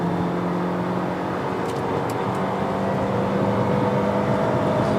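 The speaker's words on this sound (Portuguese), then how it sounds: "vamos pisar tudo aqui até os 120" Hyundai Creta Ultimate 2.0 engine accelerating at full throttle toward 120 km/h, a steady loud drone with rising engine tone and road and wind noise, heard from inside the car with no talk.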